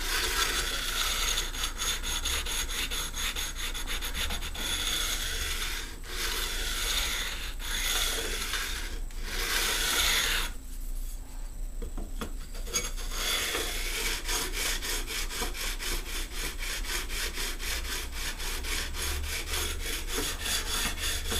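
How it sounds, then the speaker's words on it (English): A file rasps back and forth across the fret ends of a Stratocaster during a refret, beveling their edges. Rapid, rhythmic scraping strokes run almost continuously, close up, with a short pause midway. "now I'm going to start to slightly bevel the edge where the frets come onto the fingerboard or come off the fingerboard"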